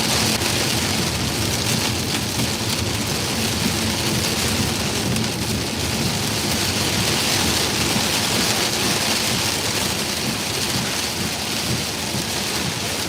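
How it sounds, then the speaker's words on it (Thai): Heavy rain pours steadily and densely with no letup, a constant broadband hiss with low rumbling underneath, close and loud throughout. "ฝนตกหนักมาก"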